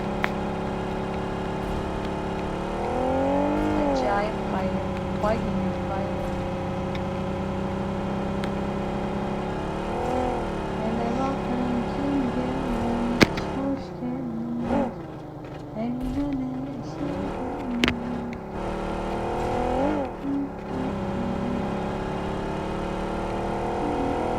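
A car engine drives in PUBG, a steady mid-pitched hum that rises and falls in repeated revving swells, with occasional bumps and thuds, running loud and continuous under game sounds.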